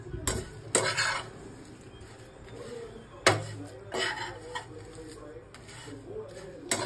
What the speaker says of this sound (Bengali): তো ভালো করে কিন্তু এটাকে নাড়তে হবে, যাতে এটা পুড়ে না যায়।